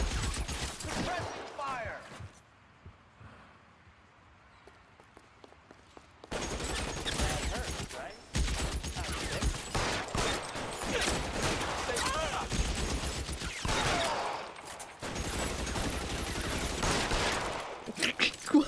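Heavy suppressing gunfire in the game L.A. Noire, dense overlapping bursts and volleys that drop out briefly then return loud and sustained through most of the stretch.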